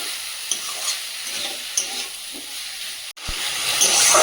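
Boiled banana flower drops into hot oil and fries, giving a steady sizzle with rhythmic stirring scrapes, a brief dropout, then a louder, hissing surge as the frying intensifies. No one speaks.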